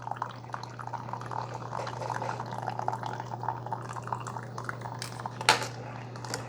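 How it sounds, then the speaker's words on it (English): Coffee drips and trickles from the funnel of a Cuisinart SS-12 coffee maker. The pattering is soft and steady over a low appliance hum, with one brief louder clink near the end. "the coffee is only coming out of the bottom of that funnel"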